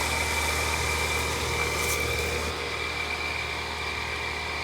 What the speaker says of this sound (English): Pump it's running.